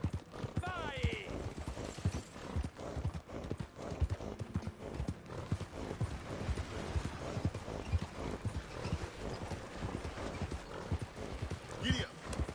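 Horse hooves clip-clop steadily at a gallop in the Red Dead Online video game, a dense, continuous rhythm with an occasional whinny, mixed under ongoing talking.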